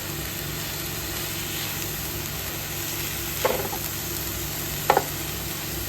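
Chicken mince stirred into lettuce in a pan for a Kerala-style lettuce chicken thoran, a low steady sizzle with two brief scraping stirs of the spatula.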